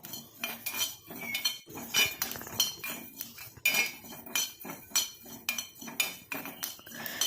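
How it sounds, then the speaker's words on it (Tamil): A utensil stirs fenugreek and black cumin seeds roasting dry in a pan, with repeated close metallic scrapes and clinks in an irregular steady rhythm and no voices. "நாம் கையெடுக்காமல் இந்த மாதிரி கிண்டி விட்டுக்கிட்டே இருக்கணும்"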